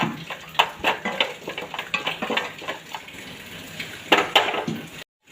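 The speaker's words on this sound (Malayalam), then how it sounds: "ഇനി നന്നായിട്ട് നമുക്കൊരു ഇളക്കി കൊടുക്കാം." Turmeric, chili and coriander powders being stirred in a pan for beef curry, giving soft continuous scraping and swishing strokes in an irregular rhythm, close and fairly quiet, with no voice over them.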